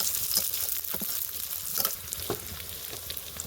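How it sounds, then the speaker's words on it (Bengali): Onions, garlic and slit green chillies frying in oil in a pan, a steady crackling sizzle with occasional louder pops and stirring clinks, fairly close and with no voices. "পেঁয়াজ রসুনগুলো মা একটু হালকা হালকা করে ভেজে নেওয়ার পর তাতে চেরা কাঁচা লঙ্কাগুলো দিয়ে দিয়েছে"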